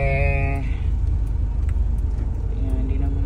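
Idling car interior while stuck in heavy traffic just outside a subdivision, a steady low engine and road rumble throughout, with a brief horn-like tone early on and faint talk in the background.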